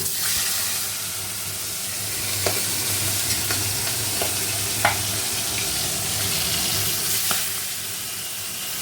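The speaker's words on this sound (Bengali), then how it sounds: "মাছ ভাজা অর্ধেকটা হয়ে গেছে আর অর্ধেকটা বাকি" Salted fish pieces fry in hot oil in a wok, giving a steady close sizzle broken by a few sharp clinks and scrapes from stirring.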